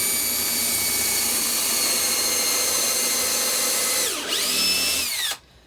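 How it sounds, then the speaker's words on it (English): Power drill boring into a piece of wood, a steady high whine held for several seconds, dipping briefly as the bit bites, then spinning down and stopping, close and loud. "We're going to take that bit and drill into the first piece of wood."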